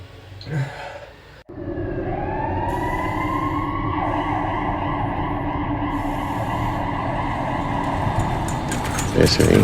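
A loud ambulance siren starts abruptly and wails steadily for several seconds, with engine rumble underneath and voices talking over it, in a short film.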